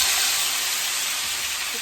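Spices hit hot oil in a pot for Jamaican brown stew fish, giving a loud, steady hiss and sizzle that holds evenly throughout, with no talking.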